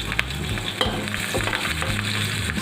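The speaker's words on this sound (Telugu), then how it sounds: "ఆయిల్ వేడెక్కిన తర్వాత ఓమా ఇంకా జీలకర్ర వేసుకోవాలి." Ajwain and cumin seeds crackle and sizzle in hot oil while being stirred, a steady close frying hiss with scattered pops and scraping of the spoon, no voices.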